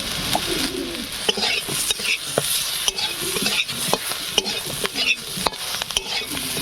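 Steady close sizzling of eggplant frying in hot oil, with repeated scraping and stirring knocks and a faint bird cooing in the background.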